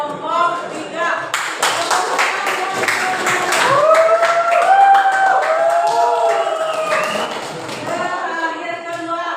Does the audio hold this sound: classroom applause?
yes